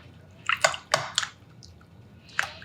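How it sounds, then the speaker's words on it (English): Lean pork for dim sum siumai is pulled apart by hand in a bowl of cold soaking water, giving a few wet squishes and splashy squelches in short bursts, close and alone. "Basically, we're just breaking apart the meat, and this is cold water that we have the pork soaked into."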